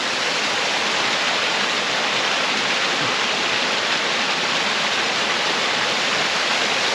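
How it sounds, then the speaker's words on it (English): A small waterfall pours steadily, a constant rushing splash that fills the whole clip with no pauses. "I've come across this beautiful little waterfall"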